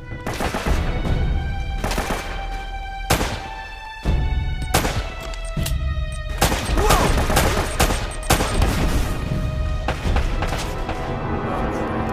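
Dense gunfire from the video game Uncharted: Drake's Fortune rattles in loud, overlapping bursts and single shots throughout, with booming impacts and a game soundtrack underneath.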